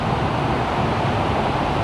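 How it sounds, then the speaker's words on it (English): Truck rolling through flood water on a Los Angeles street, a steady broadband wash of spray and tire hiss with road rumble, continuous and fairly close, no voices. "Check out how the water sprays up as the truck drives over them."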